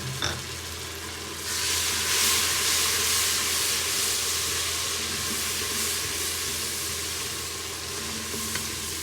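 Grated tomato drops into a hot pan of curry masala for Pakistani aloo gobi salan and sets off a loud, steady sizzle with a frying hiss that continues without talk.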